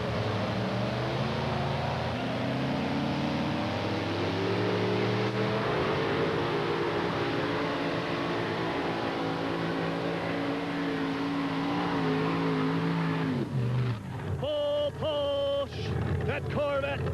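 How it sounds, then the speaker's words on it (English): A 1988 Corvette pulling vehicle with a 640 cubic inch aluminum Ford engine competes at a 1989 NTPA two-wheel-drive pull in Hildreth. Its engine roars loud and sustained, with the pitch climbing under load, then cuts off abruptly near the end. "This 88 Corvette, sharp-looking machine. 640 cubic inch aluminum Ford power plant."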